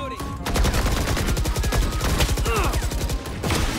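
Rapid automatic gunfire in the shooter game Valorant, a dense rattling stream of shots lasting almost the whole stretch with brief pauses, along with game effect sounds and faint voices underneath.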